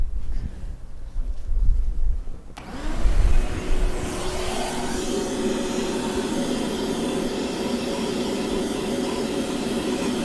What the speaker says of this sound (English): We're going to vacuum it one more time